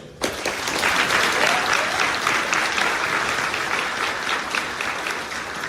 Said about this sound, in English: I ask that all of you please join me in a round of applause to honor them.